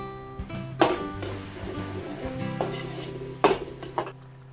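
Garlic and onion sautéing in a pan, with a continuous sizzle broken by sharp clanks and scrapes of the utensil stirring against the metal, two louder knocks standing out.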